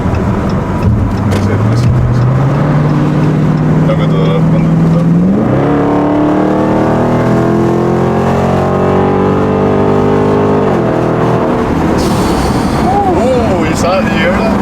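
A Dodge widebody Scat Pack accelerates hard, its engine note climbing steadily through the gears with a short shift dip, loud and continuous from inside the car while people talk.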